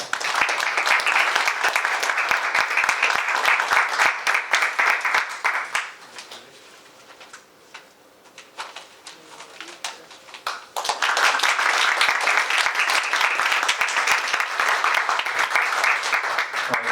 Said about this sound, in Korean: We would like to give a big round of applause once again to the 8 trainees who worked very hard.